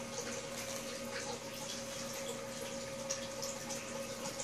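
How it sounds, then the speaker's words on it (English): Water swishes steadily in a gold pan holding paydirt, a soft continuous wash with faint trickles and a low hum underneath, close and unbroken, no one speaking. "what you're going to want to do is tip your pan back towards you and then just swirl"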